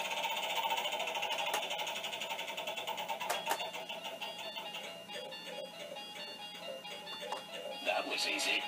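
A vintage Commodore tractor-feed printer runs on a Commodore PET setup, its print head chattering in a rapid, buzzing mechanical rhythm that stays close and continuous, with someone talking over it.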